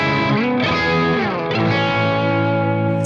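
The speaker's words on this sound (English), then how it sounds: "you can still hear that wiry single coil thing through it" Telecaster electric guitar with single-coil pickups in an alternate tuning, played through distortion: a sustained, thick, saturated chord rings out loud and alone, shifting once partway through, with a wiry edge.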